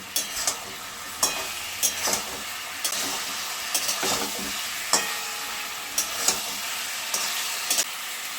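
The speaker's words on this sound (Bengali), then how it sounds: "এখন মশলার সঙ্গে পনিরটা বেশ করে কষিয়ে নেব" Fried paneer cubes stir-fried with spices in a pan for veg chilli paneer, giving a steady close sizzle with repeated sharp scraping and clattering strokes of a spatula at an uneven rhythm, and no talking.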